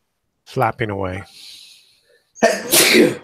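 A single sharp sneeze following a brief spoken exclamation, with a short breathy pause in between.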